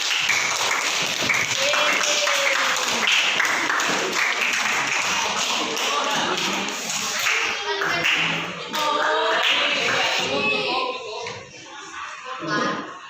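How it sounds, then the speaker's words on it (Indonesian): A classroom of students claps together after a maths answer, a dense and steady round of applause lasting over ten seconds with a few voices mixed in, fading slightly near the end. "Kasih tepuk tangan."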